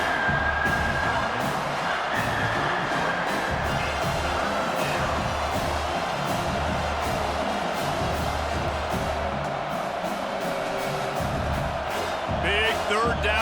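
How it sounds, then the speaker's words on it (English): Stadium crowd noise from EA College Football 25, a sustained, loud roar of cheering that swells and holds throughout a game simulation, with commentary voices talking over it. "Big 3rd down as the crowd gets behind this defense."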